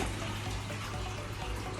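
Fresh water running steadily into a large reef aquarium system in a mechanical closet beside a reverse-osmosis unit, a continuous close hiss of flowing water with a low hum underneath.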